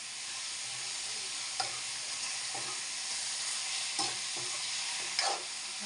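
Pork belly sautés in a pan with a steady, bright sizzle, broken by a few sharp scrapes and clinks of stirring, close and alone without voices.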